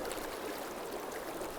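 A river current flows steadily in Austria, giving a continuous close wash of rushing and gurgling water with no other sounds over it.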